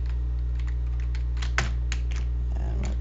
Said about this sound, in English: Kind of hard to type with one hand.